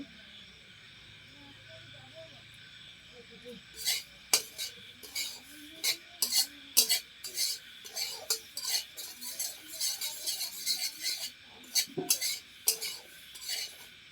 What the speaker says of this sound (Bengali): সুজিটাকে একটু ভেজে নিচ্ছি ভাজছি